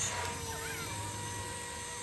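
A Blade Revolution 235 CP RC helicopter hovers nearby with a steady rotor hum and a high whine from its motor, with small pitch shifts as the throttle changes, fairly faint and alone.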